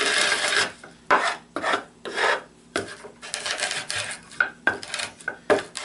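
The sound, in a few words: de-hulling rice by rubbing it between plywood pieces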